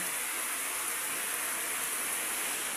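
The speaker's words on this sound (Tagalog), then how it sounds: "malakas pa rin ang ulan" Heavy rain pours down during a power outage in a steady, dense hiss that stays loud and unbroken throughout.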